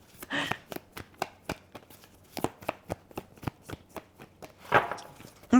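A deck of tarot cards is shuffled up close in quick, crisp riffles and taps, a rapid run of sharp flicks with brief pauses between bursts.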